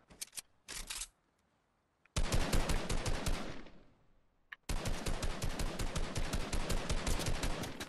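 Gunfire in the Fortnite Battle Royale video game: a few short bursts, then long stretches of rapid automatic fire, loud and close, broken by a brief silent gap.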